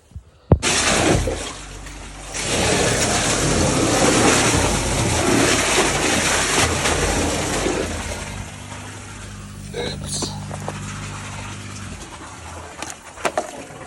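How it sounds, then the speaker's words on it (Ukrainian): Water poured back into a well gushes and splashes loudly for several seconds, then settles into a lower trickle and gurgle, with a few knocks near the end. "Вернули колодязю назад його воду."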